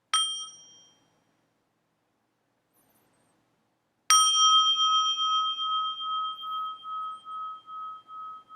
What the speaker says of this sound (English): let's enjoy one sound of the bell together